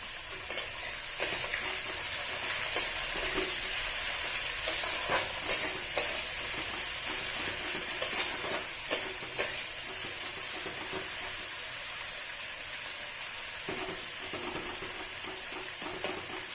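Chopped onion frying in a pan for a Bengali egg and bottle gourd curry, a steady close sizzle with occasional sharp clicks of a spatula stirring and scraping, no talking.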